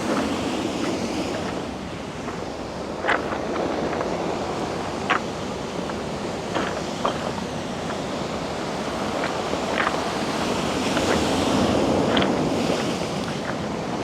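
Ocean waves washing over a rocky shore of small stones, a steady loud rush of surf with scattered sharp pebble clatters as water drains back, wind buffeting throughout.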